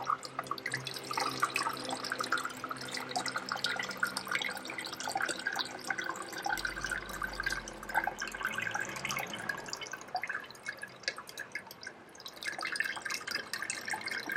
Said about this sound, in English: I'm just kind of draining the kefir off